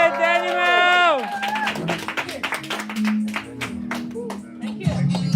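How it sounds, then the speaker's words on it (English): Audience clapping at a stand-up comedy show, a sustained ragged burst of many hands mixed with cheering voices and a host speaking over it, fairly close and loud. "you please applaud again? Very strongly."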